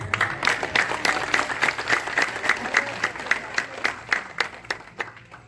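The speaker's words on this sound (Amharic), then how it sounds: "እንደው ጭብጨባ ባይቆም መልካም ነው።" A church congregation applauds in rhythmic unison, a run of evenly spaced group claps that swell and repeat steadily, fairly close and loud, alone with no speech over it.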